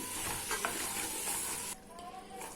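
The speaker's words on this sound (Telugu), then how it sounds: "పెరుగుని మెత్తగా ఇలా గిల కొట్టుకుని ఇందులో వేసేసుకోవాలి ఒకసారి కలిపేసుకుందాం" Yogurt being stirred into chicken frying in oil for chicken fry piece biryani, a steady close sizzle with scraping stir strokes that drops quieter near the end.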